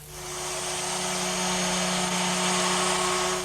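A power sander whirs steadily at high pitch, a constant buzzing grind that holds its loudness throughout.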